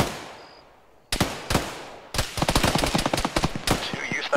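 Suppressing gunfire in a military video game: after a quiet stretch, single loud close shots crack out, then a fast sustained burst of automatic fire rattles on to the end.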